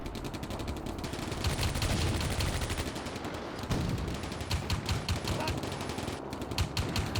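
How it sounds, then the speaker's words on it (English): Infantry gunfire in the WWII strategy game Combat Mission: Barbarossa to Berlin, a dense, continuous rattle of rifle and machine-gun fire with rapid overlapping shots throughout, loud and busy with brief lulls. "my infantry is starting to get up and return fire."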